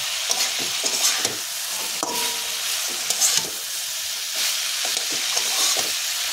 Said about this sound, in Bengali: এবার আমি একটু নাড়াচাড়া করে নেব